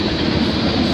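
A freight train rolls past in Milton, Ontario, a close, dense rumble of wheels and rattling cars in one brief steady burst.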